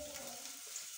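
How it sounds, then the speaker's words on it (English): Onions frying in oil, heard as a faint, brief hiss of sizzling with a low hum underneath, quiet and without talk. "And now we are cooking the onions that we are going to add to the spinach."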